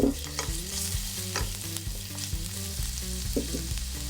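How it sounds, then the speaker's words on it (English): Chopped ginger root sizzles in hot vegetable oil in a pan, with repeated scraping stirs and clinks of a utensil over a steady frying crackle, close up and with no talking. "Saute the ginger root to bring out its aroma."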